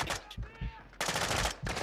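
Gunfire in a video game crackles in two loud bursts around brief pauses, the second sustained volley filling the middle of the short moment.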